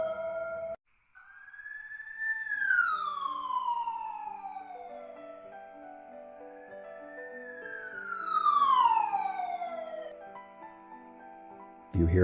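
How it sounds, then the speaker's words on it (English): National emergency warning system test sirens wail in two long, slow sweeps, each rising and then falling in pitch, over a quiet background. "Yeah, the sound of the sirens. I have to remind myself every time I hear them that it's just a test of our national emergency warning system"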